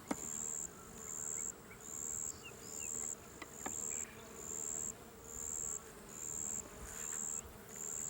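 Honey bees buzz densely and continuously around a hive during an inspection, a steady hum rising and falling in short waves, with a high pulsing tone and faint clicks.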